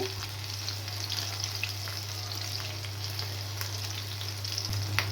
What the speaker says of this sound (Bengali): রসুন পেঁয়াজ আর শুকনো মরিচ কিন্তু একসাথে ভালো করে একটু ভাজবো একটু লাল করে ভেজে নিচ্ছি